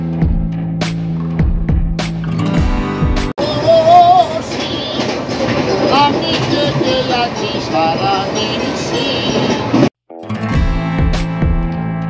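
A train rumbles along with a deep, droning hum and rhythmic clatter. The sound is loud and steady, cutting out briefly a couple of times.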